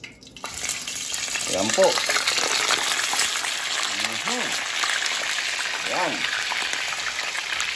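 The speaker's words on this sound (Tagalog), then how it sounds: "iprito po muna natin siya. Bago natin siya lutuin talaga." Catfish sizzling and crackling in hot cooking oil, a loud steady frying hiss that continues throughout, with someone briefly speaking over it.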